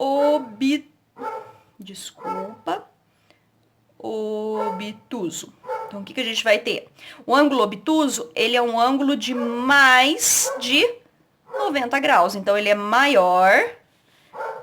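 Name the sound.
dog barking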